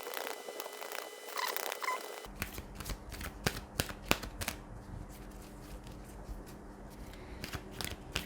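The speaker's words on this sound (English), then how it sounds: "So let's grab a card from the oracles." Oracle cards from a Queen of the Moon deck are shuffled close by, a dense run of crisp, papery riffling flutters and slaps after a quiet opening.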